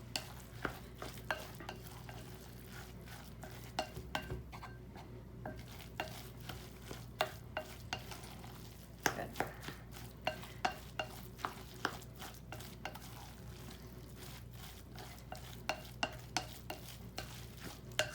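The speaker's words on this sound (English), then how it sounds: "I'm gonna take a spoon and start to push that together." A spoon pushes and scrapes a kale and meat burger mix together in a pan, with steady sizzling and frequent small clicks and scrapes against the pan.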